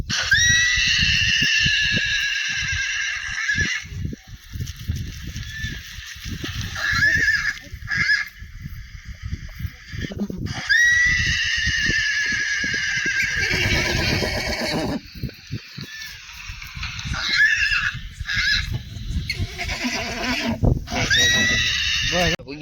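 Horse neighing loudly and repeatedly during rope training, long shrill whinnies rising and falling in several bursts, with hoof clatter and a voice heard between calls.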